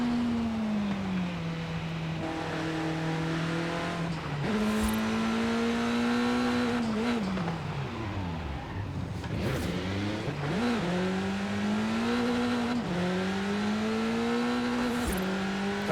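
A Lynk & Co 03+ 2021 widebody race car's engine howls at full throttle in Forza Horizon 5, a steady loud drone rising and dipping with gear shifts and cornering.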